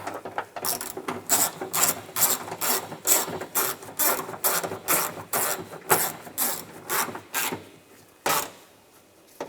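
A ratchet tightening the rear view camera fasteners on a 2010-2016 Cadillac SRX: rapid, close clicking bursts with short pauses, then a final brief run after a gap.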